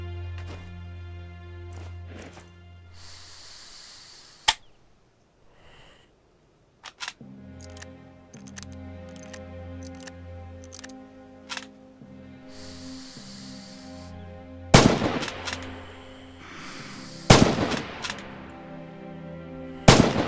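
Rifle shots in Red Orchestra 2 training, fired from prone: several sharp, loud single cracks spaced a few seconds apart, then a quicker cluster near the end, over a steady low game ambience with no talking.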